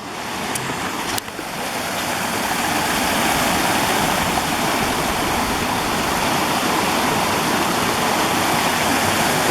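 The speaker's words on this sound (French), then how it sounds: "je viens d'arriver devant une petite rivière" Small river flowing past a little wooden footbridge, a steady broadband rush of water, loud and close, with a couple of brief clicks near the start.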